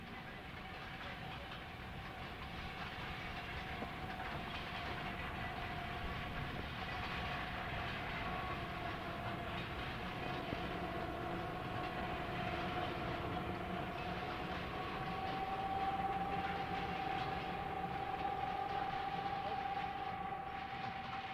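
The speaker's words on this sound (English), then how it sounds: "a westbound freight behind six F units running down the grade" A westbound freight train pulled by six F-unit diesel locomotives running downgrade on a mountain line: a steady, distant rolling rumble of engines and rail noise with a sustained mechanical tone, heard without speech.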